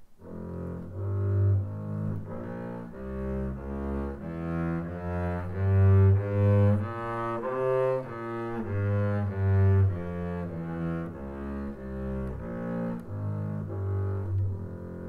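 A double bass plays an F harmonic minor scale, bowed notes stepping up and then back down, deep and resonant, with no voices.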